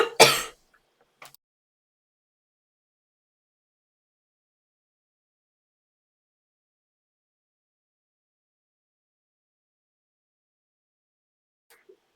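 One loud, close throat clearing bursts out at the start, followed by a faint short cough and then long silence, with a couple of tiny soft sounds near the end.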